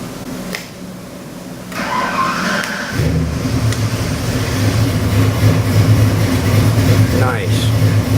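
A 1969 Ford Mustang with a 408 Windsor stroker crate engine built on a 351W block cranks over and fires up, then settles into a loud, rumbling idle that builds steadily, heard close up on a test stand.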